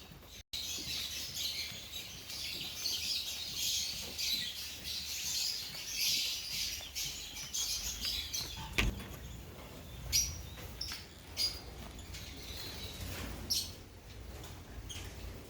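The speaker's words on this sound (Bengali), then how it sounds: "এটা হচ্ছে আমাদের পার্সোনাটা লাভবার্ডের কলোনি" Lovebirds in a colony cage give faint, scattered chirps and twitters, with a few sharper calls and brief rustles later on, all fairly quiet and distant with no talk.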